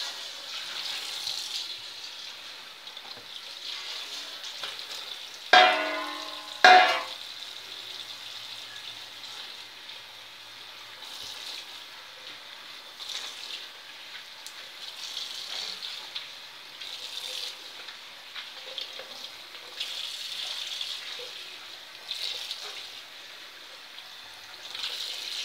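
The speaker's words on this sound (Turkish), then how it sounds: "Ve bu lahana yapraklarımızı yıkayacağız" A kitchen tap runs steadily while cabbage leaves are washed beneath it, a soft continuous splashing with two louder bursts of water early on, close and without talk.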